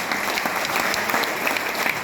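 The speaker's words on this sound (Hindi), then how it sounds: "इनके लिए जोरदार ताली हो जाएगी" A large audience claps loudly and steadily at a mela gathering, with dense, continuous applause that stays even for about two seconds.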